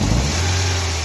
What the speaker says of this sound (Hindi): ठीक है, गाड़ी जो है ना रेस सही नहीं ले रही